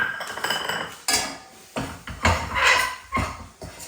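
Wheat flour roasting in ghee in a pan, heard as irregular bursts of a spoon scraping and clanking against the metal pan, fairly close, with no talking.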